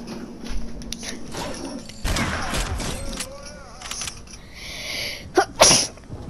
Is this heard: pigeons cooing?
no